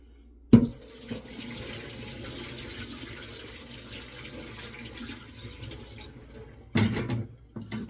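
Running tap water splashes steadily into a bowl of rice being rinsed in room-temperature water, a continuous close gush with a brief louder burst near the end.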